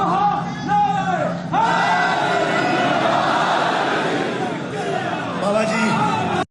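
A large crowd at a Muharram majlis, a Shia religious gathering, chants slogans loudly in unison, hands raised, a swelling roar of massed voices rising and falling over several seconds.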